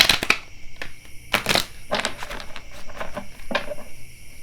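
Oracle cards being shuffled by hand produce brisk, close riffling bursts and papery slaps, several separate shuffles with short pauses between them, and no one talking.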